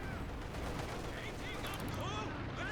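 Sharp gunfire and cannon blasts from a Pak 40 anti-tank gun and other weapons in the Company of Heroes 2 strategy game, busy overlapping battle sounds with a voice talking over them.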